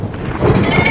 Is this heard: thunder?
yes